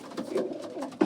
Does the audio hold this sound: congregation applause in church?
no